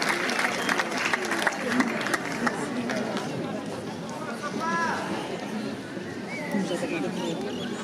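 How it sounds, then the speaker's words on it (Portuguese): An audience at a church festival ceremony applauds with sustained clapping, dense and fairly close, with crowd chatter and a few voices mixed in as the applause continues. "Recebamos com uma salva de palmas."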